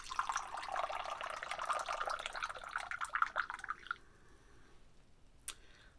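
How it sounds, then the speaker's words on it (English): Rinse water is poured off Moroccan tea leaves in a teapot, a steady close trickle and splash lasting about four seconds that then stops, followed by a single faint clink. "And then you're going to pour off the water."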